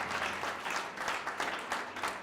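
A congregation applauding loudly at a religious gathering, dense rhythmic clapping in waves that fills the room, with no talking.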